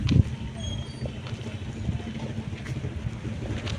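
Wind buffets the microphone with a constant low rushing roar, heard while travelling home, with a brief louder gust at the start and faint distant background noise beneath.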